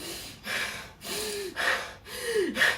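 Several sharp, forceful breaths drawn in, a person gasping in quick succession with short pauses between, close and clear with no other sound.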